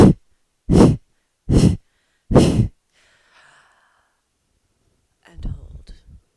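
Breathing during a pranayama practice: four loud, sharp breaths close to the microphone at an even pace, followed by near silence and then a softer, rustling breathy sound.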